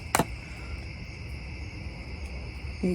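Steady, high-pitched cricket chirping fills the night, a continuous shimmering drone with a couple of brief sharp clicks at the edges.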